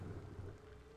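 Thunderstorm weather in the Nantucket sailing game, a steady low rumble of rain and distant thunder filling the whole second with no voices.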